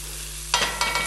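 Onion, garlic and chilies sauté in a pan over high heat, a steady near sizzle lifted by two quick stirring bursts.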